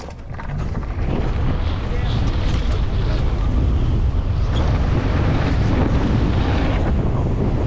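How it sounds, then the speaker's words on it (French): Strong outdoor wind buffets the microphone in a loud, continuous roar that holds steady throughout. "Ah, y'a du vent là. Y'a du vent."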